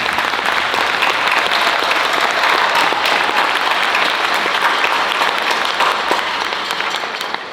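A high school symphonic band concert audience gives a long, full round of applause, a thick sustained wash of clapping from a large crowd that eases slightly toward the end.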